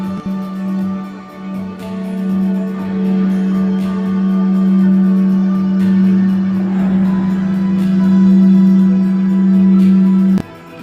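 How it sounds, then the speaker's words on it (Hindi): Radio emissions from the Sun converted into audible sound: a loud, steady low drone with faint overtones, holding unchanged for about ten seconds before cutting off abruptly. "रेडियो एमिशंस को साउंड वेव्स में बदलकर सूरज की आवाज़ हमारे कानों तक पहुंचाई"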